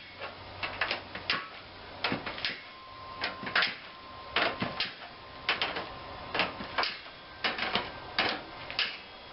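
Runway pattern being cut out, heard as a series of crisp, close snips and clicks in an irregular rhythm, fairly quiet with pauses between groups.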